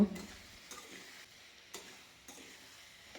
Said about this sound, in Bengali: এরপর সবজিগুলোর সাথে মশলাটাকে দিয়ে কষিয়ে নেব তিন থেকে চার মিনিটের জন্য